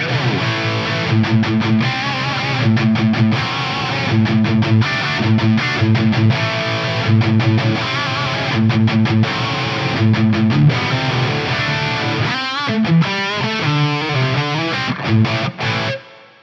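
Electric guitar played through a Fractal FM3 amp model on a fresh channel, loud distorted chords and riffs with rhythmic chugging stops, ending in a run of single notes and a fading sustained tone.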